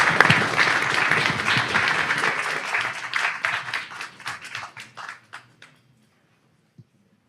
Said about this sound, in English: can we get another round of applause for the panelists